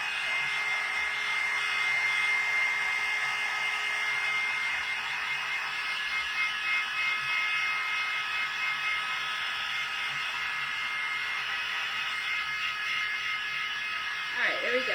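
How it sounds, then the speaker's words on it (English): A heat gun blows a steady, loud stream of hot air over a painted watermelon craft coaster, a constant close whir that runs nearly the whole time before cutting off at the end. "this heat gun definitely works wonders"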